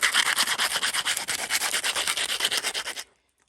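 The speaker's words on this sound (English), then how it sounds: "we're just going to dress that up with a little bit of sandpaper, just like that" Sandpaper rubs back and forth over the sharp plastic edges of a customized seat stem, a close, rapid rhythmic scratching of about two dozen strokes that stops abruptly.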